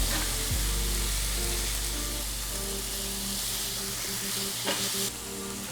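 Ground meat fries in a pan on the stove and gets stirred to cook evenly: a steady, close, dense sizzle with scraping and stirring noises, and no talking.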